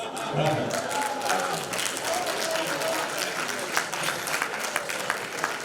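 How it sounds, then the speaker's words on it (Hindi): Applause from a crowd at an evening poetry recital in a hall, a dense, continuous patter of many hands clapping with scattered louder claps and murmuring voices underneath. "तो जिन लोगों ने ताली बजाई"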